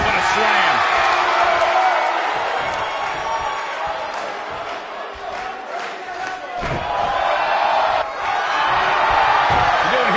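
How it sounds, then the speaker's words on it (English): A pro wrestler slams an opponent onto the ring mat in front of a capacity crowd, a heavy thud under loud excited commentary, with the arena crowd roaring and cheering throughout. "Oh, what a slam."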